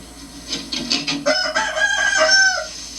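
A hen close by gives a run of throaty clucks and rising squawks, several calls in quick succession.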